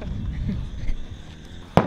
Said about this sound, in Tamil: இங்கே வெடி வைக்கிறோம்